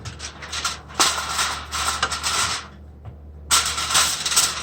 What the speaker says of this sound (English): I'm just going to take a piece of aluminum foil